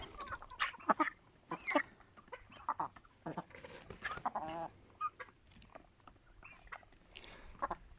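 Indian game roosters and hens in a coop cluck and squawk in frequent, overlapping bursts, fairly close and unbroken by talking.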